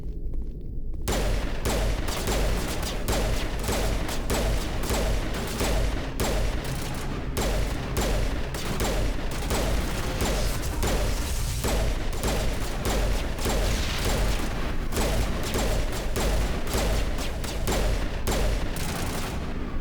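Dense combat gunfire in Mass Effect, rapid overlapping shots and bursts firing almost without pause at close range, loud and continuous after a brief quiet start.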